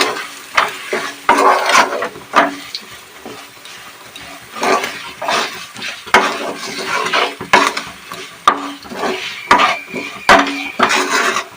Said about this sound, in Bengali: দিয়ে ভালো করে চালটাকে মশলাগুলোর সঙ্গে কষিয়ে নিতে হবে